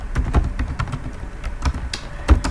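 Typing on a computer keyboard, a loose, irregular run of close key clicks and taps with brief gaps, heard alone without talk.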